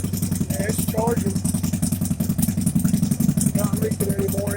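A 2000 Harley-Davidson Sportster XL883C engine runs at a high idle, a loud, close, steady lumpy throb with faint talk in the background.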